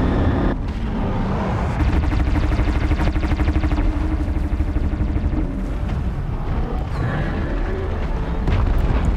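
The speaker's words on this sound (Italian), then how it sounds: "Stanno sparando più che altro con i cannoni." Thunderjaw machines fire cannons in a battle in the game Horizon Zero Dawn, a loud, dense barrage of rapid booming blasts over a heavy rumble that continues throughout.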